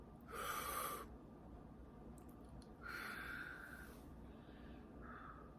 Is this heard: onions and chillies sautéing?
no